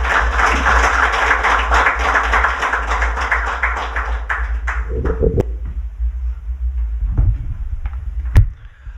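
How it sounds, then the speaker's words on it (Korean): Audience applause welcoming the head of a history association to the podium at an evening Korean history forum lecture, a dense steady clatter of clapping that thins and fades out toward the end. "박수로 환영해 주십시오."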